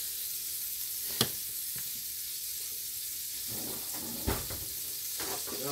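Butter sizzling and frying in a pan for chicken fried rice, a steady soft crackling hiss throughout with a couple of sharp utensil clinks against the pan.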